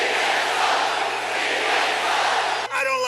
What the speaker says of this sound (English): His crowd in Houston on Monday broke into a CNN sucks chant.